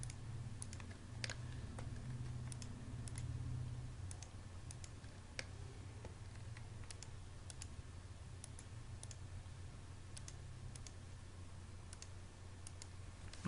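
Quiet keyboard typing in AutoCAD 2016 to enter a trim command, with scattered soft key clicks over a steady low hum.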